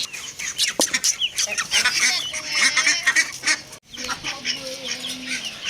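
A busy, loud flock of ducks and chickens: honking and clucking calls overlap continuously, with a brief drop partway through before the squawking resumes.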